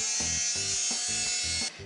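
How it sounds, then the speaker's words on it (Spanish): An electric sander with fine-grit sandpaper buzzes steadily with a high whine on a varnished wooden chair, its tone pulsing rhythmically as it is moved back and forth. "Para eso aquí tenemos la lijadora y una lija de grano fino."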